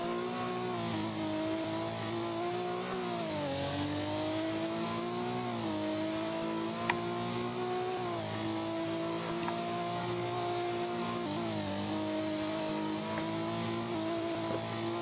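Race car in an endurance racing video game engine note rising and falling as it brakes and accelerates through a chicane and a quick sweeping right-hander, steady and continuous with brief tire squeal.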